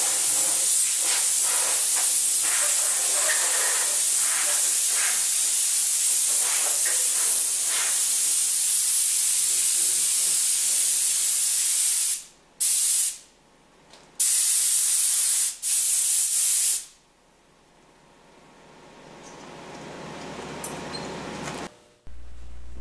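Compressed air blasts loose chips off a milling machine in a long, loud steady hiss that cuts out in a few short bursts before fading to quieter background noise.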